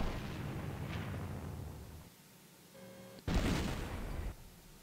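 Artillery fire in a North Africa tank battle game: deep rumbling booms roll on, ease into a lull, then one sharp, loud blast hits and trails off.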